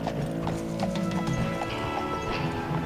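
Horses galloping in the Western shooter Call of Juarez Gunslinger, a steady run of close, loud hoofbeats with an occasional whinny over a continuous game soundscape.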